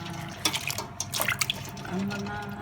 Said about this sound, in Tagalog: So yung crab kanina hugasan natin kasi lublog sa tubig